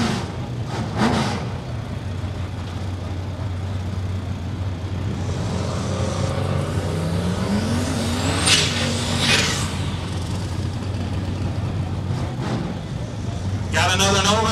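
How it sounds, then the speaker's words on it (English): Race cars and street vehicles roar past on an asphalt road, engines swelling and fading with a long pass near the middle, under steady commentary from a voice. "He's in some sort of race vehicle."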